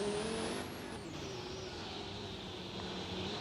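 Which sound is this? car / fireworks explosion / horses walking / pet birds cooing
car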